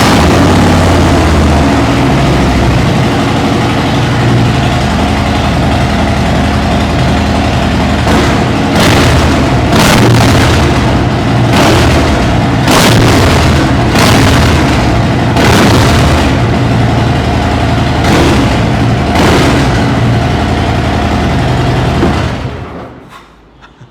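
A superbike worth about 28 lakh rupees fires up and idles with a deep, loud rumble, punctuated by several sharp, roaring revs in the second half before cutting off near the end.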